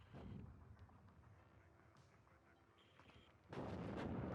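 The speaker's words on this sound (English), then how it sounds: "Carabaz has brought in some heavy artillery of his own and is now shelling the most likely position for my command vehicle" Heavy artillery shells land in a WARNO real-time strategy battle, with deep booms rumbling in the background and then a loud, dense barrage of impacts erupting close in the final second.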